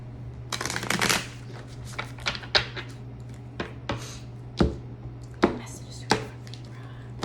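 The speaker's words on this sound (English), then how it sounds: "I'm gonna do like a shuffle or two here" Tarot cards riffled and shuffled close by, a dense flurry of papery flutters followed by scattered soft taps and slaps as the deck settles, over a low steady hum.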